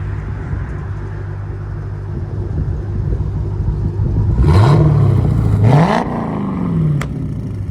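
A straight-piped Dodge Challenger SRT8 with a 6.1L HEMI V8 idles with a deep, steady rumble, then gets blipped twice, each rev rising sharply and falling back to idle, loud and close.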